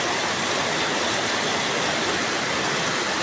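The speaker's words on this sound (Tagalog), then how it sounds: "Lakas ng ulan guys." Heavy rain pours steadily, a dense continuous hiss of drops striking surfaces nearby, with no voices.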